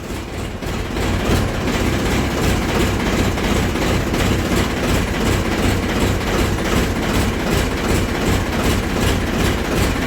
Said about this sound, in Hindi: इंजन इतना कड़क है इसका